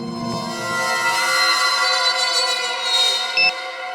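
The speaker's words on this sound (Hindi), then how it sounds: "कहीं धीमी आवाज में तो नहीं बजा अलार्म?" An alarm clock ringing with a steady, sustained electronic tone rich in stacked harmonics, holding at an even level for several seconds with no voices.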